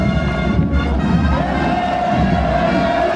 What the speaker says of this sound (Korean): 만세 함성 끝없이 끝없이 울려 퍼집니다